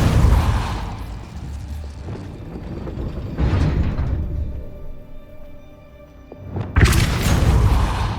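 Repulso spell effect in Hogwarts Legacy: a heavy, deep booming burst that swells and fades, a rumbling mid-section with mechanical clanks, then a second loud, sudden blast rolling out near the end.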